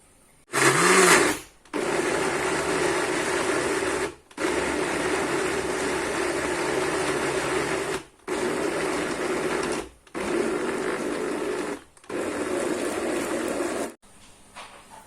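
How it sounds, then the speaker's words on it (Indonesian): A blender whirs loudly in several bursts, grinding chicken and spices for nuggets, each burst running a few seconds, separated by brief pauses, with no talking. "Lalu nanti kita mixer atau kita blender ya."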